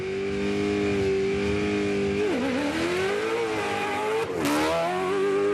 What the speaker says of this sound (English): The V8 engine screaming off the line.